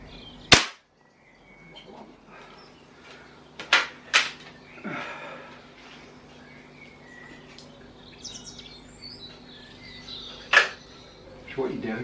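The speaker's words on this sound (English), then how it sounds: "Give it 3 shots in the bottom right." Three sharp, loud shots are fired at the bottom right of a target. They come at irregular intervals over faint background sound, with birds chirping in the distance.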